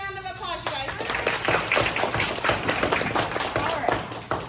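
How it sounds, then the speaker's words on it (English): Audience clapping at a career talk, a brisk, uneven patter of hands close by, with a voice at the start and chatter mixed through the applause. "let's give her a big round of applause, you guys"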